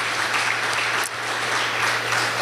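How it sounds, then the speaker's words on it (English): Brief, dense applause from a crowd at a community political evening with candidates and cookies, steady clapping throughout with a low constant hum beneath. "Can we just get a round of applause for the folks that silently work in the background"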